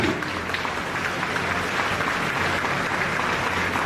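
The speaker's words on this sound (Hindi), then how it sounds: "खड़े होकर अपने स्थान पे जोरदार ताली" Crowd at a birthday celebration for an MLA in India gives loud, sustained applause, a dense steady roar of clapping from many hands with no pauses.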